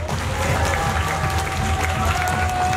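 Steady applause with scattered cheering from a seated audience at a Korean talk event, a dense continuous wash of clapping throughout.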